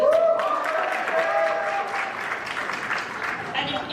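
Audience applause at a university nursing convocation, a moderate wash of clapping under crowd noise and a voice, fading gradually.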